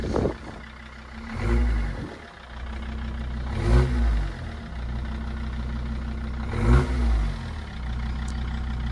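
Jeep Grand Cherokee 2.7 fitted with a straight-through exhaust, revved three times from a steady idle, each short throttle blip swelling loud and close, then dropping back to a low, even rumble.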